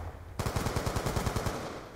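Rapid automatic gunfire in the video game Black Ops 2, a steady burst of evenly spaced shots that starts abruptly and runs loud and close for most of the moment, with no talking over it.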